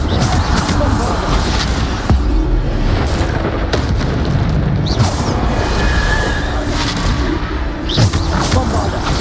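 Booming Bombarda spell explosions in the video game Hogwarts Legacy, a dense, loud and continuous barrage of blasts and crashes with repeated sharp impacts layered over each other.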